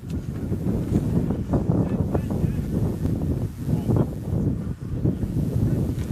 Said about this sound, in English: Mentioned there wasn't much wind to start the contest, but it's picked up here